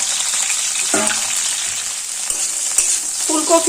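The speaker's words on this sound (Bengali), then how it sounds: "এবার ওই তেলে ফুলকপিগুলোকে ভেজে নেব" Cauliflower pieces fry in oil over a low gas flame, giving a constant close sizzle broken by a few clinks and scrapes from stirring. No one speaks.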